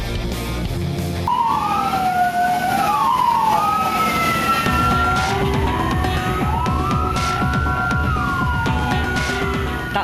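Fire engine sirens wail loudly and up close as several fire trucks respond to a burning public minibus in Temanggung, Central Java, with rising and falling tones that overlap over traffic rumble.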